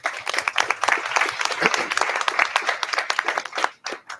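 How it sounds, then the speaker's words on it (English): A room at a school board of education meeting applauds a junior athlete being recognized; a few seconds of dense clapping that tapers into scattered final claps. "We can give him a round of applause."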